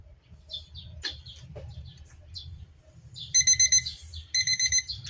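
Kitchen timer alarm goes off during sinigang na baboy cooking, two bursts of rapid high electronic beeping in quick groups, loud and close, after light kitchen clatter over a low simmering rumble.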